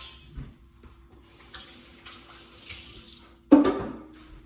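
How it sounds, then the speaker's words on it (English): Kitchen tap running to wet hands while making peanut butter butterscotch Rice Krispies treats: a steady soft hiss of flowing water, then a louder splash as hands go under the stream, close by. "I'm going to get my hands wet."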